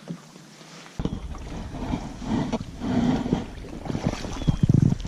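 Canoe paddled across water at sunset, with soft splashing and dipping paddle strokes against light wind and water noise, close to the microphone.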